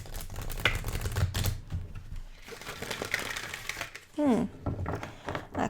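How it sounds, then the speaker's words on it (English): Soul cards oracle deck riffle shuffled by hand, a quick run of crisp papery flutters and taps under a woman's quiet chatter, with a short whirring burst near the end. "Actually can manage to riffle shuffle it."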